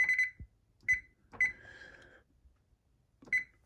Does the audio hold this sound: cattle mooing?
no